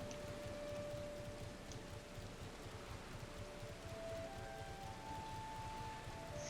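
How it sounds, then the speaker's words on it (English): Rain in the video game Final Fantasy XIV, a faint, steady hiss of falling rain that holds evenly throughout, with a few thin tonal game sounds drifting over it. "Ooh, baby, it's raining."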